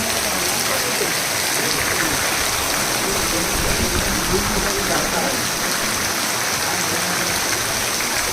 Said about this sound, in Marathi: जोरात पाऊस आला आहे